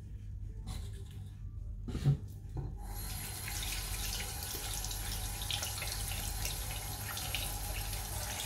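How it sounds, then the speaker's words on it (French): Jewelry rinsed under a running tap of lukewarm water: after a few quiet handling clicks, the faucet opens into a steady, close rushing stream that continues to the end. "rincer à l'eau tiède"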